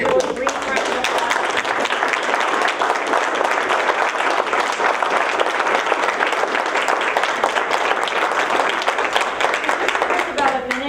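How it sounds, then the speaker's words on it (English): Brief audience applause at a candidates forum, a loud, sustained round of clapping from a room full of people, steady throughout with faint murmurs mixed in. "So let's give just a real brief round of applause."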